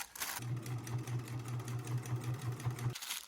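A sewing machine top-stitches through several layers of fabric on a homemade jar gripper, closing the opening and flattening the seam; a steady, close whirring runs for about two and a half seconds, then stops.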